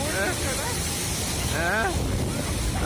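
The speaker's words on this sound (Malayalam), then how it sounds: "ഓ ഭയങ്കര കാറ്റും" Strong wind at a waterfall roars and buffets the microphone in a dense rush, with a person's voice briefly breaking through over the noise.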